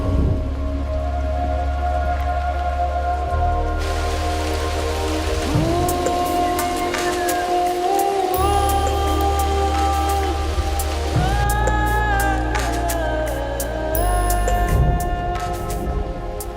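Steady rain pours down outdoors in a continuous hiss that lasts throughout, partly covered by music playing over it.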